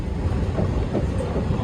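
A train rumbles past close by in a steady, heavy low roar with a faint rhythmic rattle, briefly and without pause.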